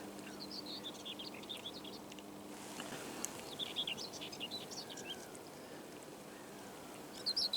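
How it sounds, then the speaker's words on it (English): Skylark song drifting over the River Medway foreshore, faint high twittering phrases coming and going over a steady low outdoor wash of water and wind, distant and soft. "The skylark's excited."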